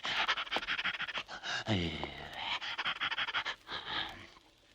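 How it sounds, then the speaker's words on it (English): Rapid, breathy panting of an old hound close up, rhythmic and continuous, with a brief low whine in the middle. "an old hound lying in the road, gasping and panting"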